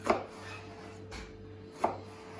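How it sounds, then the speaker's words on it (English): A knife chops food on a board in a home kitchen, two distinct close, sharp knocks about a second and a half apart, with a faint soft tap between them over a quiet background hum. "Chop that down there like that."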